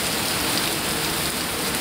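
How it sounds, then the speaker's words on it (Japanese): Heavy rain pours down steadily and close by, a dense unbroken hiss of drops on surfaces with no voices, during a Shikoku pilgrimage walk. "この雨だと歩けないです。"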